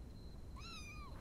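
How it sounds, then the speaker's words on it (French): A kitten in a TV series gives a single faint, high, thin meow, quite brief and heard over a low steady background hum. "Qu'est-ce que c'est mignon les chatons"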